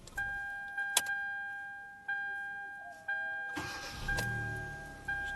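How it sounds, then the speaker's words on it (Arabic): A 2013 Hyundai Elantra with a 1.6L MPI engine, heard from inside the car: electronic dash chimes ring steadily, then the engine cranks briefly and catches into a running idle. "طفوا نحاول نشغلوا السيارة"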